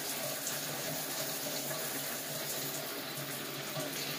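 Shower water runs steadily as a broad, even hiss throughout, with no voices present.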